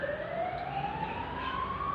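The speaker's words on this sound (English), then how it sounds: "Army patrol cars making the sirens, but they're all police patrol cars." Police patrol car sirens wail in a continuous rising tone, moderately distant, over a wet, rumbling street background.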